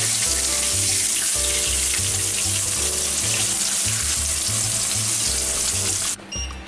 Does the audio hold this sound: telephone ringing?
no